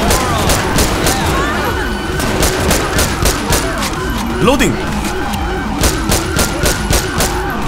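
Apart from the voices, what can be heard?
gunfire in video game GTA V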